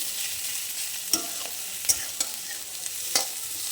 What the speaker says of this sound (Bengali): রসুনটা দিয়ে দিলাম দিয়ে ভালো করে ভেজে নেবো